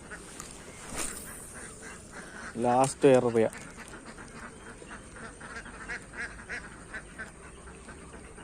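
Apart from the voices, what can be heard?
ducks quacking near water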